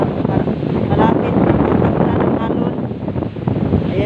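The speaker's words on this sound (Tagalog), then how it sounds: "Malakas talaga ang hangin." Strong wind at the coast of Dapitan City, Zamboanga del Norte, during large waves, a loud continuous roar buffeting the microphone with surf mixed in throughout.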